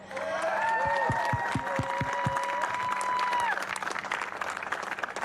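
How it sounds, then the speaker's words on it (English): A crowd applauds and cheers the WRC3 winners on stage at the Rally Finland post-event show. Loud, continuous clapping is overlaid by whistles and whoops early on, then it thins toward the end. "Round of applause, everyone!"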